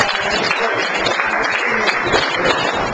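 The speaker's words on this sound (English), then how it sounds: "Give a round of applause" Applause from a crowd at a gathering where sponsors and customer counts are being announced, a dense steady wash of clapping lasting throughout, with voices mixed in.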